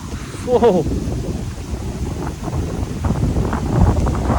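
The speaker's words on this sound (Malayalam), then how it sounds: "ആ കിടിലം കാറ്റ് ഇത് കണ്ടോ" Strong wind buffeting the microphone in a steady gusty roar, with a voice speaking briefly near the start.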